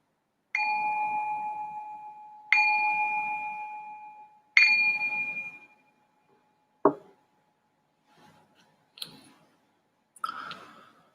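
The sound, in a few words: meditation bell rung to signal start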